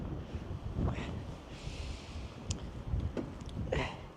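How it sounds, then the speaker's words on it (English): Cold wind gusting outdoors in Skibotn, Norway, rumbling and buffeting against the microphone in a steady low roar, with a few faint thin whistles above it. "Fuck, it's cold. It's the wind."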